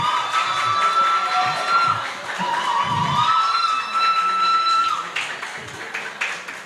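A debate audience at a university guild event cheers loudly with whistles and shouts, a dense sustained crowd roar over scattered clapping that swells and then tapers off.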